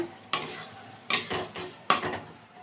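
Gourd leaf paste being stirred in a pan: three distinct scraping strokes of a spoon against the metal, each starting sharply and then trailing off, close and fairly quiet with no voices.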